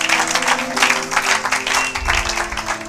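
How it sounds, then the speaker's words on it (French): Church congregation applauding during a French-language sermon, a steady dense clapping that fills the space at a fairly even level, with organ or keyboard tones sustained underneath. "Acclamez pour la gloire de notre Dieu,"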